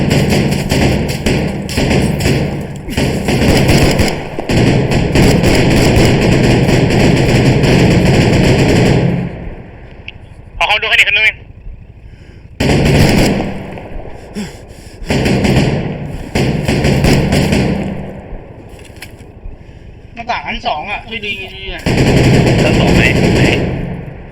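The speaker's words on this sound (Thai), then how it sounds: "มันมียิงมาจากทางหน้าประตูอยู่" Bursts of rapid automatic gunfire and heavy thuds from a tactical shooter game, Arma 3, during a SWAT raid on a house, loud and close in long clusters separated by short quieter gaps.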